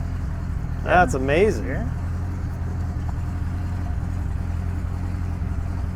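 A 1927 Stutz Blackhawk Boattail Speedster engine runs at a steady, low idle throughout, a constant rumble with people briefly talking over it near the start.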